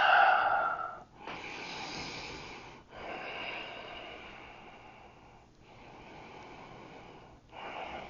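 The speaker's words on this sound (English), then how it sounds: "Just take another couple breaths." Slow, steady breathing during a yoga stretch for cyclists after a ride, long airy inhales and exhales separated by brief pauses, close and fairly soft with no talking.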